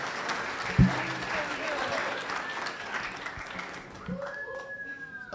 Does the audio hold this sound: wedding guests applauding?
yes